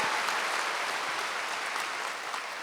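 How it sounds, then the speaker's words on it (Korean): A church congregation claps steadily and loudly during a Wednesday worship service, a dense, even applause with no break. "박수로 하나님께 영광 돌리겠습니다"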